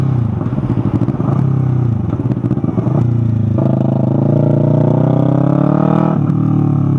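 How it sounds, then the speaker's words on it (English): A motorcycle engine with a modified exhaust runs loud and close, its raspy exhaust burbling at idle and then revving up smoothly with a rising drone. "So I have had no issues running my modified exhaust on this bike."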